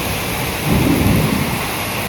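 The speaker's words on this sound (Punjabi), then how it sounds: "ਬੱਦਲ ਗਰਜਦਾ ਕੁਛ ਬੜਾ ਬਹੁਤ ਜ਼ਿਆਦਾ ਆਵਾਜ਼ ਆਉਂਦੀ" Steady hiss of heavy rain with a deep rumble of thunder swelling up midway, then fading back under the downpour.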